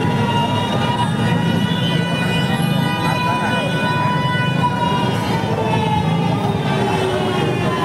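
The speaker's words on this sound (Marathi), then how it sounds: "या ठिकाणी सायरन वाजलेला आहे आपण पाहू शकता." A loud civil defence air raid siren wails steadily through a bomb blast drill, its drawn-out tones holding for the full stretch over a dense, noisy outdoor background.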